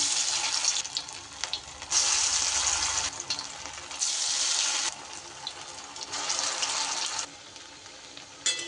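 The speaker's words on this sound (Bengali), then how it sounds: "এইভাবে গোল গোল করে একটু এরকম চ্যাপটা চ্যাপটা করে তেলের মধ্যে আমি দিয়ে দেব" Flattened rounds of spinach fritter batter dropped into hot oil, loud bursts of bubbling sizzle that swell and ease in waves, heard up close with no voices.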